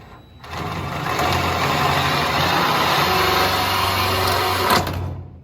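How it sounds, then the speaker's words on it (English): A spot weld cutter drills out a spot weld on a classic truck's roof, a steady high-pitched whirring drone that runs for several seconds and then stops abruptly. "use that exterior hole cutter to cut your spot weld off"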